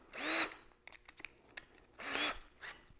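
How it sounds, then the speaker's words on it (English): Power drill boring holes into a DIY eight-foot wooden workbench, two loud whirring bursts of drilling with a pause between, plus lighter scraping and handling noises close by. "that's to stabilize it while I drill the next ones"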